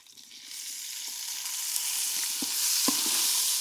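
Tomatoes tossed into oil with onions and green chillies at an outdoor treehouse campsite in Araku, making a steady loud sizzle that builds, with a few clanks of a stirring spoon against the pan.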